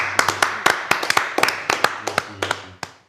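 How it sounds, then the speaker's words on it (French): A small studio audience at a live TV show claps unevenly, a sparse scatter of sharp, distinct handclaps close by that thins out over a few seconds. "Applaudissements pour lui"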